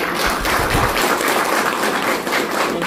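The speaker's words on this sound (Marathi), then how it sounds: "जोरदार टाळ्या देऊन स्वागत" Sustained applause from an audience at a police financial planning awareness session, welcoming a speaker; dense, steady clapping with no pauses, close and fairly loud throughout.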